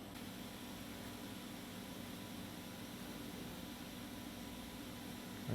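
A hot air rework gun with a narrow nozzle blows a steady, even hiss, faint and unbroken throughout, while heating a component during a 2003 Mercedes S55 AMG key fob repair.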